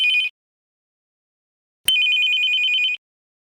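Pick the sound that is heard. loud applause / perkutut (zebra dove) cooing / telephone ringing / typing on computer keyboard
telephone ringing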